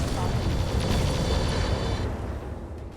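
Mech weapons firing and striking a target in the RogueTech battle game, a dense continuous barrage of booming impacts and blasts that fades slightly toward the end.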